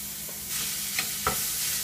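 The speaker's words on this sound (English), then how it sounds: "I'm already preheating my pans. I have this one going on, so I'm going to hit the ground beef right away." Ground beef hits a preheated pan and sizzles with a steady broadband hiss, punctuated by a couple of faint stirring scrapes, heard alone without talk.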